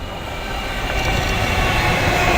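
A Class 350 electric train pulls away from Birmingham International station, a steady loud rumble of wheels and motors building gradually and holding, with no voices.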